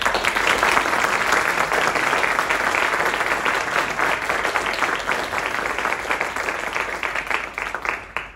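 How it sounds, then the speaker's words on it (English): Enthusiastic applause fills a chapel after a Christmas choir concert, a dense crowd clapping steadily and loudly for several seconds before gradually thinning out. "Let's give them a big round of applause."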